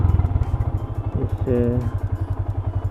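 A motorcycle engine runs close by with a steady rapid low chugging pulse, while someone speaks over it briefly.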